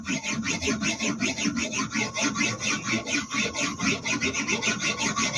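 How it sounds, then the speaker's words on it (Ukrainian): A knife blade is drawn repeatedly across the abrasive of a MAISTER fixed-angle sharpener, a close, even rhythm of raspy scraping strokes, roughly three per second, with no talking. "Витримуючи тим самим постійний кут заточування ножа від п'яти до його вершини."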